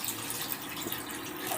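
Plain water is poured in while making Odia tomato kanji, a steady close rush of splashing flow that runs unbroken and fairly soft throughout.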